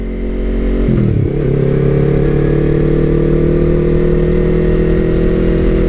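A Yamaha R3 motorcycle fitted with an aftermarket exhaust revs up close by, its steady soft, deep tone rising sharply in pitch about a second in and then holding at a higher, even drone for the rest of the clip.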